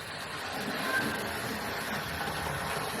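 Hornby County of Cornwall 4-4-0 model locomotive, with its motor in the tender, running steadily around the track, giving a continuous even whirring and rattling hum throughout.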